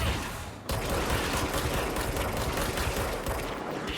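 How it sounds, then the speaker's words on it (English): Sustained gunfire aimed at the player in the video game Control, a dense loud barrage of rapid shots that breaks in suddenly and keeps rattling for several seconds without a pause. "I think somebody's firing shots at me."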